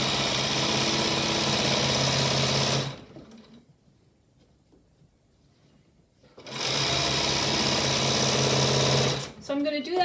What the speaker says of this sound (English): you can see that I'm sewing one right after the other